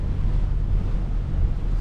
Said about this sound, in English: So breezy on the water.